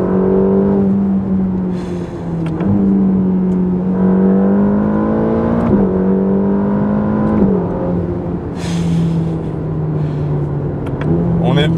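A Ferrari Roma in race mode accelerates hard in second gear to about 4000 rpm, its engine note droning loud and steady, rising slightly with a couple of brief shifts in pitch, heard from inside the car.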